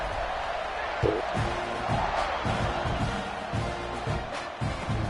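A stadium crowd in the EA College Football 26 game murmurs and roars as a steady wash, with thumping beats and scattered cheers, heard beneath a voice talking.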